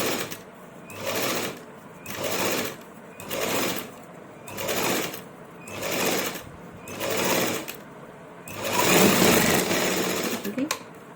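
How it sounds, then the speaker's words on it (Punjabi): An electric sewing machine stitches folded shirt cloth in seven or so regular bursts of whirring, each about a second long with short pauses, then one longer continuous run at the end. "ਫਿਰ ਮਸ਼ੀਨ ਚਲਾ ਚਲਾ ਕੇ ਸਾਰੇ ਕੱਪੜਾ ਆਪਾਂ ਫੋਲਡ ਕਰ ਲੈਣਾ ਸਾਰਾ ਹੀ"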